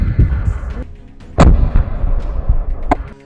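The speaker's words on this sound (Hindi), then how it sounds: "यहाँ पर अल कासिम के लड़ाकों ने आईडीएफ के टैंकों और सैन्य वाहनों को रॉकेट से उड़ा दिया" Rocket strikes on Israeli tanks and military vehicles in western Rafah, Gaza: two sharp, booming blasts about a second and a half apart, each followed by a low rumble, heard from a distance over steady background noise.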